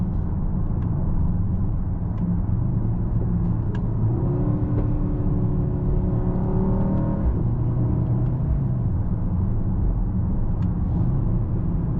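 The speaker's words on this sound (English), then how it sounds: "Absolutely love it to driving this here on the country roads." A 2025 Mercedes-AMG GLE 63 S Coupe V8 drives on country roads, heard from the cabin as a steady low rumble and road roar with a brief rise in engine note midway, continuous and fairly loud.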